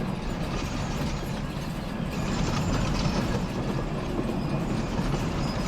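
Air brakes on a Shay steam locomotive in the Century of Steam video game give off a continuous, even rushing hiss with a low mechanical rumble underneath, steady and close throughout.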